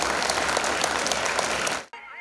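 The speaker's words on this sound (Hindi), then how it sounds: "आप सबकी जोरदार तालियों के बीच नेहा।" Loud, dense applause from a studio audience at a televised talent show grand finale lasts nearly two seconds, then cuts off abruptly as music begins.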